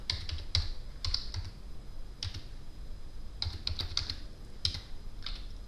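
Quiet, brisk keystrokes on a computer keyboard come in short irregular bursts with pauses between them, sounding close over a low steady background hum.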